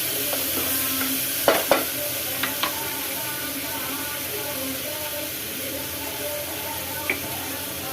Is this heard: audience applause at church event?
no